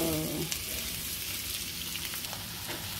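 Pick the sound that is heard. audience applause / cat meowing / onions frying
onions frying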